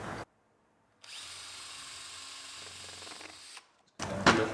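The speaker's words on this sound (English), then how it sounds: "We want a hole drilling to support them." A power drill bores a hole into a wooden jig for a spindle moulder, running steadily for about two and a half seconds at close range, with short clattering handling noises before and after.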